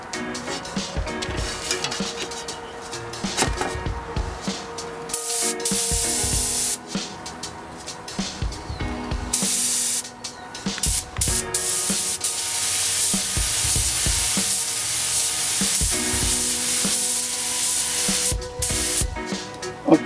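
A mini paint spray gun hisses in bursts while applying a coat, with steady close spraying broken by short pauses and some clatter between passes.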